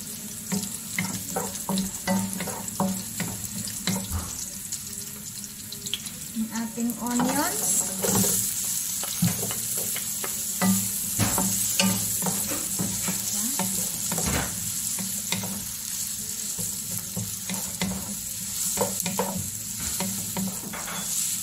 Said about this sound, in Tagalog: Igisa natin ng ating bawang.